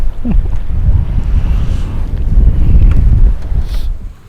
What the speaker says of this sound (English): I'm using my seat back right now to block the wind.